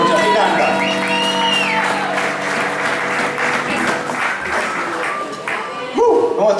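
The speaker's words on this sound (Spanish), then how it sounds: "Más fuerte el aplauso" A concert crowd at Conventillo Cultural Abasto applauds the band, loud sustained clapping mixed with shouts, whoops and cheering that swells again near the end.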